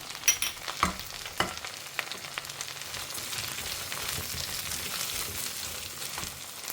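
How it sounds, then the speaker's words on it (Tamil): Small shallots sautéing in a pan with salt, a soft steady sizzle with a few scraping clatters of stirring at the start, fairly quiet and close; no speech. "வெங்காயம் ரெண்டுத்தையுமே வந்து நல்லா வதக்கிக்கலாம். இது கம்ப்ளீட்டாக வதங்கட்டும்"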